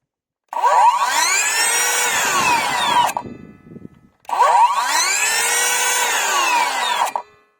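A Parkside Performance 40V cordless circular saw (PPHKSA 40-Li A1) whines loudly at full speed in two runs of about two and a half seconds each, with no cutting. Each run ends in a quick falling spin-down, and no one speaks.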